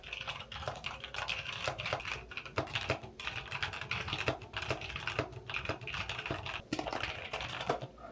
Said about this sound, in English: I'm feeling like I'm gonna type some things out.